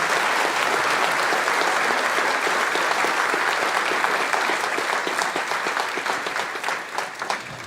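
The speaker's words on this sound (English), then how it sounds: "I do think Annabeth deserves another round of applause." Audience applause for the singer Annabeth at an old-fashioned Christmas concert, a dense, steady wash of many hands clapping that fills the room for several seconds before gradually thinning out toward the end.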